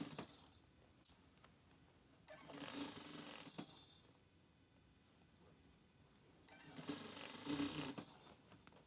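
A sewing machine running a crotch gusset seam, two short bursts of quiet, close stitching separated by a pause, with faint handling noise in between.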